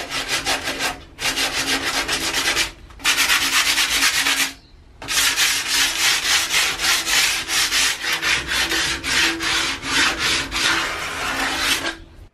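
Hand sanding chalk paint off a wooden outdoor table to distress it: bursts of steady abrasive rubbing, loud and close, broken by short pauses between strokes, with no talking.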